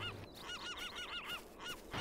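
A string of goose-like honks from birds in the ArmA combat video game, loud and close, repeating rapidly over a short stretch.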